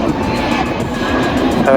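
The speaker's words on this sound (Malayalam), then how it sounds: "ടേക്ക് ഓഫ് ചെയ്യുന്നതാണ് കേട്ടോ" The jet engine of an IndiGo airliner roars steadily as it takes off and climbs near Thiruvananthapuram, with a voice talking over the rumble.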